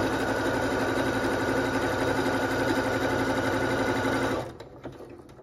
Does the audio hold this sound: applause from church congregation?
no